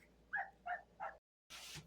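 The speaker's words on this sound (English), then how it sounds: "let me see what's wrong with this dog and why she's barking" A female dog gives three short, muffled barks in a quick row, then falls silent before a burst of rustling noise; faint and somewhat distant, with no talk.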